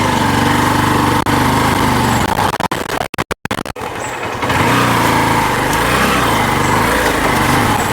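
A motorcycle engine runs loudly and steadily as it pulls away in first gear during a driving test, with a brief choppy dip in the sound before the revving note resumes and holds.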